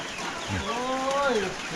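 A chicken gives a drawn-out clucking call over low background noise.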